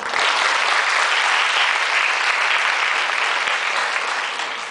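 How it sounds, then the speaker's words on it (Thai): Loud, dense audience applause fills a club meeting hall, steady throughout and tapering slightly at the end, with no talk over it. "ขอเสียงปรบมือดังๆ ให้กับทุกท่านด้วยค่ะ"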